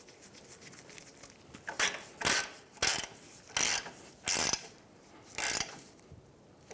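A hand ratchet snugs a castle nut onto the CV axle of a 2003-2011 Honda Element, about seven short bursts of close, sharp ratcheting clicks separated by brief pauses, with no voices.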